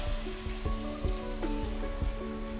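Breakfast mixture sizzling steadily in hot cooking oil in a pan, a constant crackling fry with soft periodic clicks and scraping, close and moderately loud, no voices.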